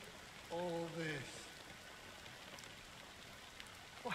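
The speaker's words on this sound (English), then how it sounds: "it's still raining" Steady soft rain falls in the role-playing game Honkai: Star Rail, a faint continuous patter under a short spoken line near the start.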